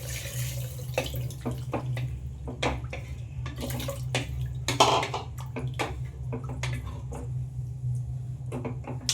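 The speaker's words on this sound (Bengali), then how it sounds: "পানি দিয়ে দিচ্ছি" Water is poured into browned mutton in a pressure cooker while making mutton pulao, a splashing, gurgling stream with irregular spurts and drips over a low steady hum, close and fairly loud.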